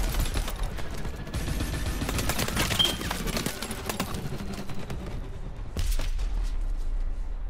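Sustained rapid gunfire in Call of Duty: Advanced Warfare, a dense, loud fusillade of automatic shots with booming impacts running throughout, with no voices.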